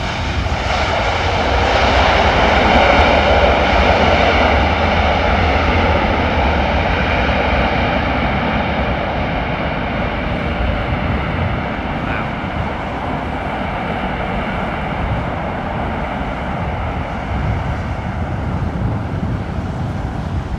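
A China Airlines Airbus A350 in special carbon livery lands at London Heathrow in wind and rain, its jet engines a loud, steady roar that fills the whole stretch and eases off slightly toward the end.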